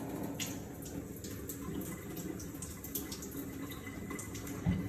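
Tap water running while a tissue sample is rinsed at a necropsy sink, a soft continuous faint splashing stream with small drips, no talking.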